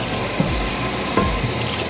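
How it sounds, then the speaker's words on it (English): Tap water runs steadily into a pot of rice being washed for Nigerian fried rice, a close continuous splashing with a few small knocks. "So now you can run normal water on it."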